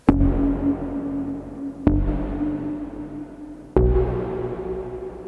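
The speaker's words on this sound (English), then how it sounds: "which gives you this widespread reverb." Three sharp Model D synthesizer hits through a Planetarium 3 pre-delay reverb, each blooming into a wide, washy reverb that lingers and decays between strikes.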